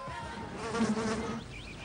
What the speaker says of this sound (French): Et toujours en vedette américaine, la mouche.